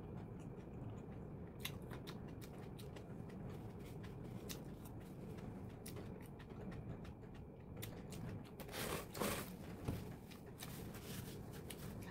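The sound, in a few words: crunchy food being chewed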